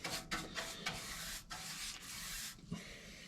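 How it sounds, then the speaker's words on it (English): A brush spreading rust-prevention paint onto new steel panels of a K5 Blazer, with repeated scratchy bristle strokes, short rhythmic swipes with brief pauses between them, close and fairly quiet. "So now we just paint this stuff on."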